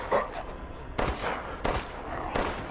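Gunshots from the video game Resident Evil Village, a few sharp, loud reports fired singly at uneven intervals with short decays between them, no talking over them.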